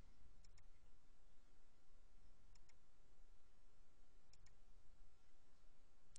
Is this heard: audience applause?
no